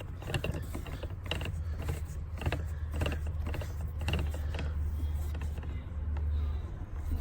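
Hand tightening of a threaded plastic fitting on an Intex EasySet pool, giving irregular close creaks and small mechanical clicks over a steady low background hum.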